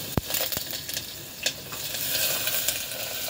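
Potato curry starting in hot oil with a nigella seed tempering gives a steady close sizzle, broken by a few sharp clicks and clatters of stirring.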